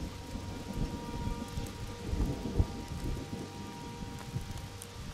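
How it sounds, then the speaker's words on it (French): Hail coming down and bouncing off surfaces all around, a steady dense patter of small impacts with occasional louder hits, continuous and unbroken, no voices. "Je suis coupé dans mon propos par la grêle."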